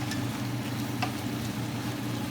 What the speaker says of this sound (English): you're going to mix all of this up together